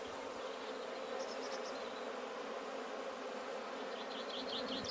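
A small honeybee swarm gathering at a hive gives off a steady, dense buzzing hum, even and moderately close, with faint chirps above it and no voices.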